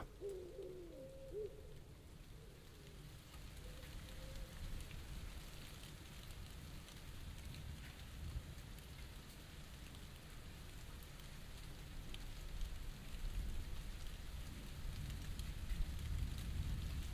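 Rain falling steadily on surfaces at the end of a heatwave, a soft continuous hiss that thickens toward the end, with a few faint bird calls early on.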